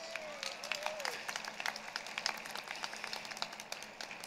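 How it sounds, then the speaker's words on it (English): A graduating class applauds itself at a 2021 high school commencement, distant scattered claps rising and falling in a fairly quiet outdoor-sounding space, with faint background murmur. "Give yourselves a round of applause"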